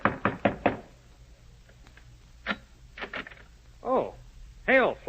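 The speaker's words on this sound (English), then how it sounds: "I walked quickly to Brutus's villa and knocked on the door." Knocks on a villa door in an old-time radio drama, a quick cluster of sharp raps near the start followed by scattered softer knocks and clicks, with voices coming in toward the end.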